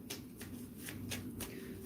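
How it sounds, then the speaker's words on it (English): Cards shuffled for a reading, with several quick riffling bursts in a loose rhythm, close and fairly quiet, no talking. "I'm shuffling."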